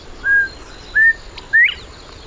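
Quail giving three clear whistled call notes, spaced about half a second apart, the last one louder and sharper with a slight upward slur, over a quiet background.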